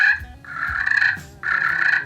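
A turkey call sounds a loud, close series of sharp yelping notes in two bursts with a brief gap between them, imitating a turkey with no talk over it.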